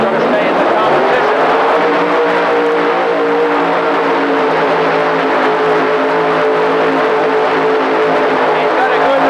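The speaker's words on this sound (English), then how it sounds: "Ed Herzbarn, he needs a full pull if he's going to stay in the competition." Heavily modified tractor in the 5200 class at a 1985 indoor super pull in Indianapolis, its engine roaring loud and steady throughout, rising slightly in pitch early on, with an announcer talking over it.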